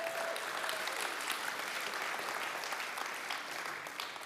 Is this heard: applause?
yes